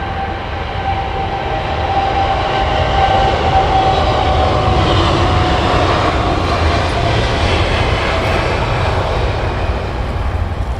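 Air Canada airliner passing at Heathrow Airport, a loud steady jet engine roar holding throughout, close and continuous with no talk.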